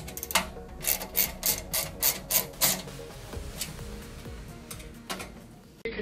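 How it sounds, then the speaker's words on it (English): A cross-head screwdriver and a 10mm socket wrench tighten the wheel screws on a flatliner cart. A close, rhythmic series of ratcheting clicks and rasps runs for several seconds, then slows into a few scattered turns. Nobody speaks. "We're now going to tighten them up using a cross-headed screwdriver on the outside and a 10mm socket and wrench on the inside."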